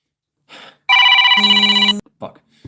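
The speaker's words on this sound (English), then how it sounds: "Phone call." A telephone bell rings loudly in one sustained burst of about a second, with a deeper tone joining midway, set between short bits of quiet speech.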